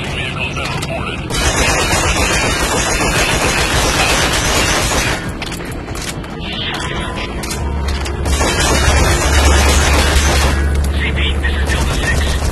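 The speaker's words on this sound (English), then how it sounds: "Heard an explosion." Explosions and sustained gunfire from the Metal Gear Solid V: The Phantom Pain video game rumble loudly throughout, with dense bursts of shots and booming impacts and a heavy low rumble building near the end, mixed with radio chatter.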